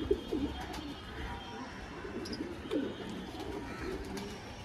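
Soft, low coos from a pair of Kalshira pigeons come a few times at a moderate distance against a quiet outdoor background.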